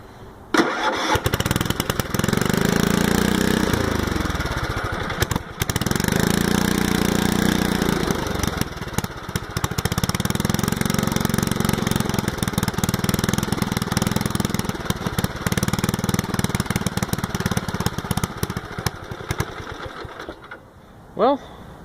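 Small engine with a newly fitted muffler running at idle, a steady loud drone that surges and dips in cycles and cuts out near the end, with talking over it.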